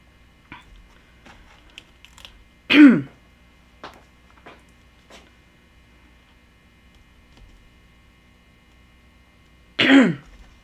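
Two sharp, loud coughs about seven seconds apart, with quiet small knocks and rustles between them.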